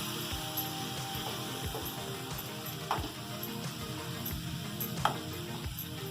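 Grated carrots with milk for gajar halwa sizzle steadily in a pan, a soft continuous crackle broken by faint scraping stirs and a few sharper clinks of the spoon.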